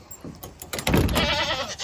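Goats bleat inside a homestead barn, one close wavering bleat rising after a few short creaks and knocks, loud and near.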